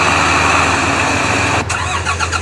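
A Massey Ferguson tractor hauling an 18-foot trolley runs loud and steady up close, its engine droning alone without any voices.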